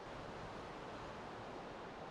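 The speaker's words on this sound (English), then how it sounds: "I don't know if you can hear the river right beside me." A river rushes beside a forest trail of moss and roots, a steady, faint broadband wash of flowing water with no voices.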